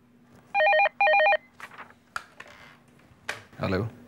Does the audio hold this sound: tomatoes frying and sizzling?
no